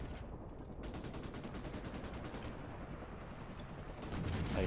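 Rapid automatic gunfire in Call of Duty: Modern Warfare Remastered on PS4, sustained bursts of fast repeating shots fairly quiet in the mix, with brief gaps and a slightly heavier volley at the end.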